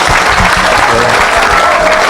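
A church congregation at a French-language evangelical service bursts into loud, continuous applause and cheering, a dense close wash of clapping hands throughout.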